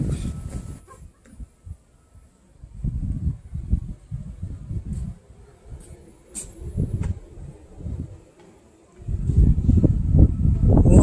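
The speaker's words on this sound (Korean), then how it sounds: "바람 소리 들리세요?" Wind blows at a high hotel vantage point in Busan, rumbling against the microphone in uneven low gusts that rise and fall and grow strongest near the end.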